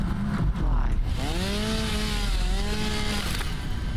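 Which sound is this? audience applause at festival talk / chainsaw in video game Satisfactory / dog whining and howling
chainsaw in video game Satisfactory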